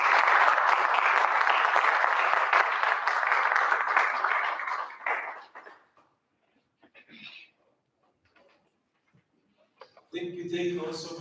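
Audience applause for a speaker at a disability awareness event, a dense, steady round of clapping for about five seconds that fades out, followed by near silence with faint stirring and a brief burst of noise at the end.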